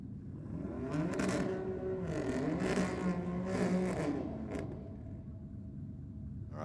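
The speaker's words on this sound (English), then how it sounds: "BMW taking on the Skyline down there in the rocket lane" A BMW and a Nissan Skyline drag racing at Sydney Dragway at night, engines revving and rising in pitch as they launch down the strip, heard from a distance as a steady mechanical roar.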